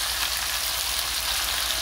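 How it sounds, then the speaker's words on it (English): Frozen riced cauliflower frying in hot oil gives a dense, close crackle of spattering and sizzling that holds steady for the whole brief moment. "oil is hot and this is frozen, so the oil gonna like splatter all over the place"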